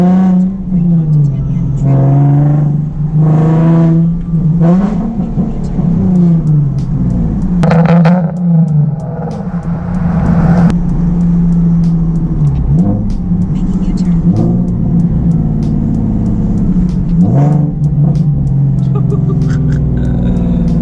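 Straight-piped Nissan 370Z/350Z accelerating, a loud raspy engine droning and rising through revs with throttle surges and shifts, heard from inside the car, with people talking over it.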